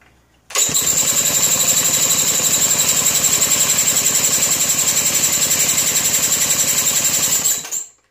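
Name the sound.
Maytag hit-and-miss engine from circa 1932 cold starting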